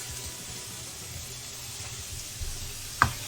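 Chopped onion sizzling steadily in a hot pan, a continuous soft frying hiss with faint scraping of a stirring utensil and a brief louder clatter near the end.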